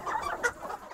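Chickens cluck and murmur at a poultry farm in New Caledonia raising fast-growing Caledonian broiler chicks. The clucking is continuous and fairly close, with a brief louder squawk partway through a one-second stretch.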